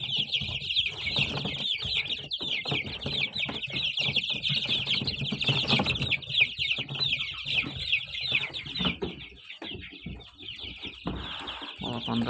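Hens and young chicks hatched in an incubator cluck and peep continuously in a poultry enclosure, with dense high chirping over lower clucks and occasional shuffling, close and steady throughout.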